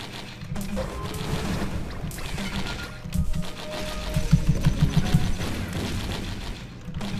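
Dense, rumbling barrage of explosions and rapid gunfire from landmines and a turret pounding a boss in the Risk of Rain video game, continuous and fairly loud with a low booming churn throughout.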